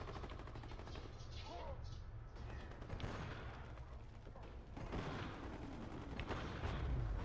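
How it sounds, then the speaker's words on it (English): Gunfire from the shooter game Army of Two: The Devil's Cartel crackles in scattered bursts and rattling volleys, moderately loud, with heavier firing toward the end amid other game sounds. "That guy's like shooting at the wall."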